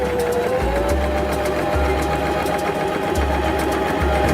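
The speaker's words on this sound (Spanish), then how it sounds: "bajamos el prensatelas y realizaremos una costura para luego fruncirla." Janome 523H sewing machine running a long gathering stitch, a steady close mechanical whir with rhythmic needle clatter and a low pulsing motor hum throughout, no talk.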